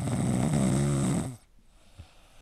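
A Persian cat snores close by, a single rough, rumbling breath lasting about a second before fading to quiet breathing.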